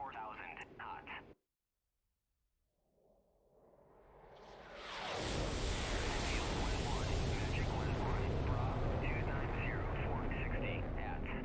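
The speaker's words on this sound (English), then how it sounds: "My wingman and I hit the afterburner to close the range" Fighter jet afterburner in the video game DCS World: after a brief voice and silence, a roaring rush builds steadily to a loud, sustained broadband roar.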